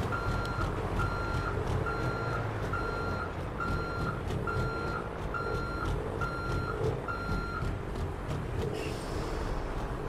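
Kenworth W900 truck in GTA 5 reversing, its backup alarm beeping in a steady rhythm of about ten evenly spaced beeps over a constant low diesel engine idle rumble, with no talking.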